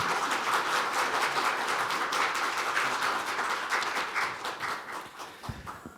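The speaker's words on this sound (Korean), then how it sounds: "큰 박수로 맞이해 주시기 바라겠습니다" Audience at a disability policy forum claps to welcome a guest, a dense patter of hands that stays fairly even, then thins and fades toward the end.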